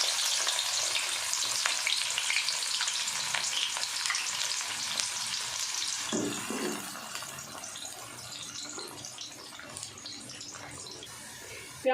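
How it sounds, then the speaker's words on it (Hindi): Sliced onions fry in hot ghee in a pot for a Degi chana pulao, giving a loud continuous sizzle and crackle that eases slightly after a stir midway. "घी हमारा गर्म हो गया। अब हम इसमें प्याज डाल देंगे।"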